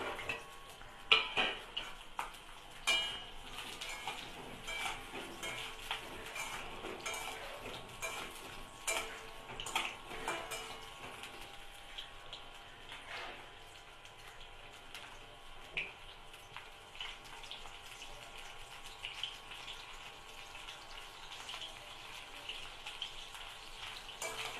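Pointed gourd pieces fry in a pan with oil, a steady crackling sizzle running throughout, broken by occasional clinks and scrapes of a utensil stirring against the pan.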